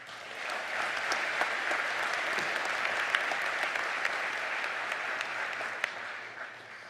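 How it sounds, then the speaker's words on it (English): Sustained applause from a large audience fills the hall at a Purdue University Northwest fall commencement ceremony. The dense clapping holds steady, with a few sharper claps standing out. "Let's give them one more round of applause."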